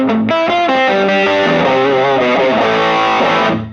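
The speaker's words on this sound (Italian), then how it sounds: "La riserva di gain non è affatto male, tirato al massimo ricorda un po' di hard rock dannata." Electric guitar played through an LAA Custom CN81 overdrive pedal with the gain turned all the way up, giving a loud, saturated hard-rock tone as a chord sequence rings out continuously without any talk.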